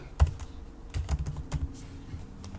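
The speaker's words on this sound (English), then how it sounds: "I'll type in the password" A password is typed on a computer keyboard: a close, irregular run of sharp key clicks and taps, clustered in short bursts, with no speech.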